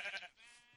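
A single short sheep bleat from the video game Hexxit, faint and brief with a wavering tone that fades out after under a second.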